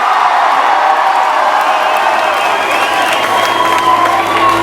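A French concert crowd in Cenon cheers and applauds, sustained loud whooping, shouting and clapping from a large audience without a break, filling the space.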